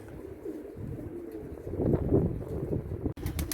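A pigeon or dove coos several times at close range, its low rounded notes swelling in the middle, over a steady murmur of background noise.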